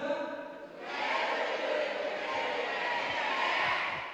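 High-school students from MA Muhamadiyah 2 Lamongan, visiting a television studio, shout their school cheer together, a loud massed chant that swells after a brief opening tone and holds to the end.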